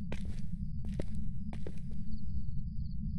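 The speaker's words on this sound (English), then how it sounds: "thought I heard a footstep." Ghost footsteps in Phasmophobia, a few soft thudding steps spaced about half a second apart, muffled and somewhat distant over a constant low rumbling background drone, with a thin tone lingering afterward.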